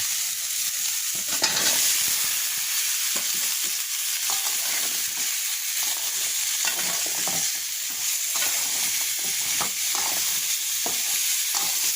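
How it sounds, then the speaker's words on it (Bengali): Sweet pumpkin pieces frying in a pan while being stirred, a loud continuous sizzle broken by repeated scraping strokes of the spatula at an irregular rhythm, no voices. "কষিয়ে দিলাম এবার মিষ্টি কুমড়াগুলো দিয়ে দেবো"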